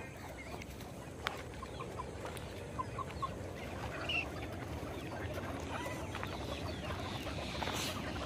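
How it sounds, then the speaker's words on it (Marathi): A desi rooster and hens roam a free-range poultry yard, letting out sparse short clucks and chirpy calls, faint and somewhat distant, against steady outdoor noise. "कोंबडा बघा कसा आहे,"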